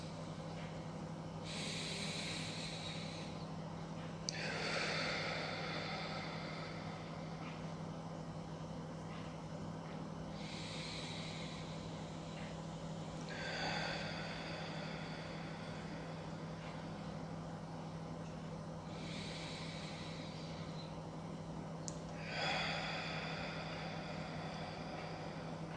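Slow, deep breaths taken during a guided meditation, three long soft airy swells spaced several seconds apart over a steady low hum, with no talking.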